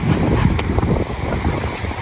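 Sea waves wash onto a beach shore, a loud, continuous rushing surf mixed with wind buffeting the microphone, with no voices present.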